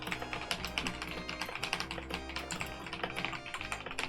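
Rapid typing on a computer keyboard during a Mario Teaches Typing 2 session, dense clattering keystrokes in a steady uneven stream over a busy low background.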